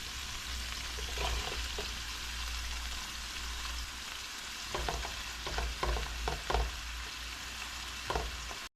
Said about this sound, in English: I'm going to go right ahead and add in the potatoes.